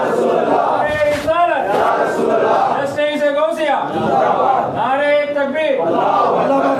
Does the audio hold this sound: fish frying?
no